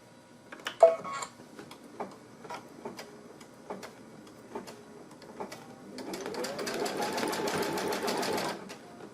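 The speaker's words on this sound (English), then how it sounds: "And then our next stitch is going to stitch across here." A sewing machine stitches across a strip of ribbon wider than 3/8 inch. Light ticks and taps come first, then a steady, close whirring run of stitching lasts a couple of seconds before it stops.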